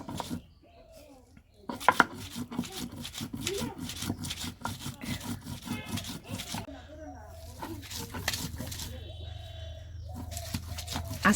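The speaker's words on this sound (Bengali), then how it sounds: "এখন এটা বেটে নিতেছি।" Dried fish bhorta paste is ground by hand, with rapid, close scraping and pounding strokes in a steady rhythm, while a voice talks over the work at times.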